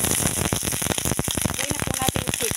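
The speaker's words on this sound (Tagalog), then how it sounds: "pag nagisa po natin ang bawang natin at sibuyas, lagay na po natin yung ating chicken" Chicken pieces, leg and thigh, dropped into a pan of sautéed garlic and onion for adobo, sizzling loudly and up close with dense, crackling spatter that pulses unevenly.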